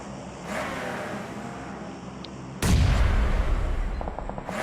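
A vehicle blows up in the mobile shooter BGMI: a steady rumble of gunfire and engines gives way to a sudden, loud explosive burst that keeps roaring, with quick metallic ticks near the end.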